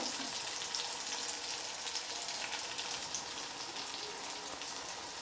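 Spices with turmeric, chilli and cumin powders sauté in hot oil for egg curry, a steady, even sizzle with a soft crackle that holds at a constant level throughout.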